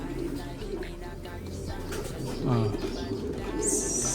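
Racing pigeons, including a semi-saddle bird, coo in a loft in several soft, throaty rolling bursts, close by, with a voice talking over them.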